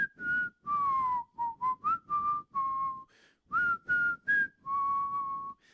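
Someone whistles a song, a clear solo melody of short and held notes with brief gaps between phrases, close and alone.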